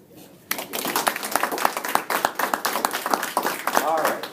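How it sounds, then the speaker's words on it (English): Audience applause breaks out suddenly after a short quiet moment at a job-search talk, with many sharp, distinct claps close by blending into a lively, sustained round. "I think we owe Steve a big round"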